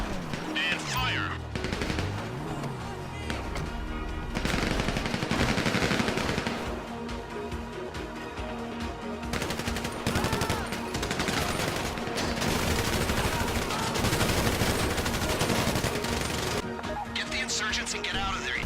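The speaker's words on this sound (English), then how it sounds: "Use the mounted machine gun on one of them if you have to." Mounted machine gun on an Insurgent LAPV Mark III armored vehicle firing in GTA V, sustained rapid bursts running through most of the stretch, loud and close, with occasional voices.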